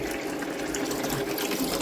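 Water siphoned up through aquarium gravel and stones, a steady close gurgling and rushing flow with no pauses and no voices.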